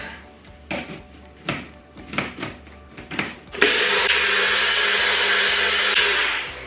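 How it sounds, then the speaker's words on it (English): Scattered knocks and clatter, then a loud electric blender starts up and runs steadily, whirring a tofu mixture with vanilla extract for several seconds before easing slightly at the end. "blend that all up"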